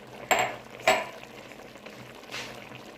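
A pot of tomato stew with eggplant simmering and bubbling, a low steady bubbling bed broken by two sharp sizzling bursts near the start and a softer one later, close and fairly quiet, no talking.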